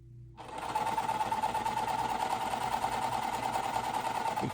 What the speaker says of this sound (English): I'm going to sew them